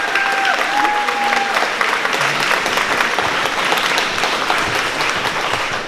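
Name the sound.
audience applause at art retrospective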